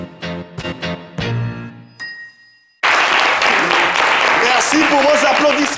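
Audience applause and clapping for a live French-language show erupts suddenly after a passage of music and chimes, a dense, loud wash of many hands that holds steady, with some voices and cheers mixed in.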